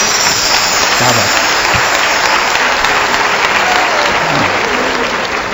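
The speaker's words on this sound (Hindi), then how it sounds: "इतनी तालियां तो मुझे जीवन में आज तक कभी नहीं मिली।" Sustained, dense applause from a large audience at a Hindu devotional satsang gathering in Mumbai, loud and steady for several seconds with no pause.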